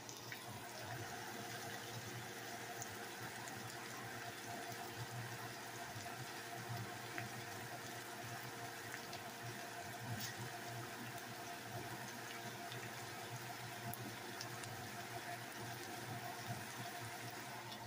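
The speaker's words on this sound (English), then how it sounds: "Sizzling away." Red onion and bell pepper sizzle steadily in a hot pan, a continuous close hiss and crackle with no pauses for the whole stretch.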